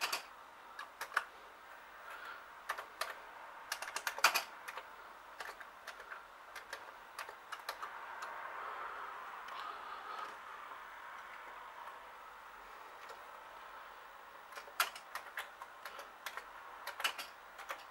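Keys clatter on a Commodore 64 keyboard in irregular bursts of sharp clicks, some quick runs and a few louder isolated strikes, moderately close with a faint background hiss and no voices.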